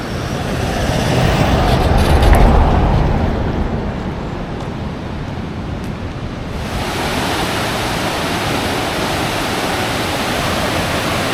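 Water thunders over the Ord River Dam spillways at Lake Argyle, a loud, unbroken roar of rushing torrent that swells early on and then holds steady, with no voices.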